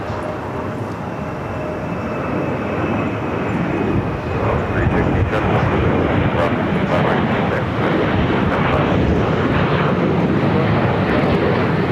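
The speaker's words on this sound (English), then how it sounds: "Next arrival, Air France flight 22, 777-300ER." An Air France Boeing 777-300ER arrives at LAX, its engine roar a loud, broad, steady rumble filling the whole stretch and slowly swelling as it nears.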